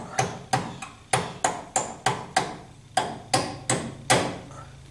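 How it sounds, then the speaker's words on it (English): About a dozen metallic hammer taps at a steady, fairly quick rhythm on a bent parking brake cable of a 1976 Corvette, each ringing briefly, close up with no talking. "it's going to need a little coaxing with a hammer"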